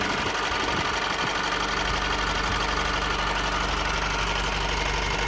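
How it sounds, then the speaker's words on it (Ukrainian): A 2014 Honda CR-V 2.2 diesel engine idles steadily with a low, even rumble and faint knocking, close by and continuous, with no voices. "Автомобіль рівненько працює, двигун"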